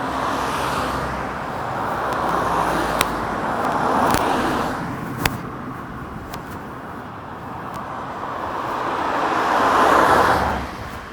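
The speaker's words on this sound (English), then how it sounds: "So this car is coming directly at us." Cars drive along a street at night, their swelling roadway roar rising and fading as they approach and pass, with a few faint clicks and no talking.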